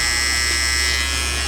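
Babyliss FX hair clippers running: a steady, close, even electric buzz with no breaks over the short stretch.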